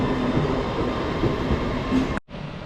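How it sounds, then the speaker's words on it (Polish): A steady low rumble inside an Intercity train in double traction as it starts to pull away, then cuts out sharply before resuming more quietly; no voices. "Punktualnie, nieśmiało ruszył pociąg wyspiański."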